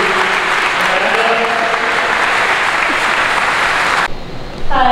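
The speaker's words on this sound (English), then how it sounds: "let's give all these girls a round of applause" Sustained applause from a crowd at a high school signing day honoring graduating girl athletes, loud and dense for about four seconds before cutting off as a voice begins speaking.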